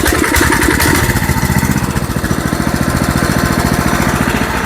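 A Coleman KT196 go-kart engine runs loud and close, a rough, rapid chugging pulse that settles into a steady uneven idle throughout.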